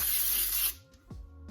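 Cooking spray hisses from a can into an 8x8 baking pan in a single short burst, close and clear, followed by a few light clicks and rattles.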